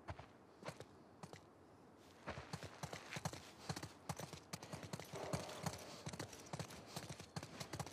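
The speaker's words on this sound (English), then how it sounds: "Let's get back to the horses." Horse hooves clip-clop steadily in The Last of Us Part II, a dense run of sharp hoof strikes growing louder and busier after the first couple of seconds, with no talk over them.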